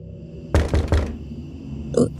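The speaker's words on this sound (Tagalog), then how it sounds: "may narinig na kaming malakas na katok sa pintuan" Loud knocking on a wooden door as a sound effect in a told horror story: three heavy, evenly spaced thuds, then a softer muffled knock after a pause.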